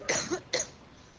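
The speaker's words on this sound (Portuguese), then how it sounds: "essa é a primeira tosse aí" Two quick, sharp coughs, one right after the other, recorded close up as a sample for a Covid cough-detection dataset, followed by quiet.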